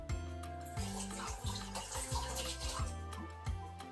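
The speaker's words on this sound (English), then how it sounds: "And I rinse it in cold water just so you know." Fresh basil leaves are rinsed under cold running tap water, a continuous close splashing stream punctuated by brief bumps and handling knocks.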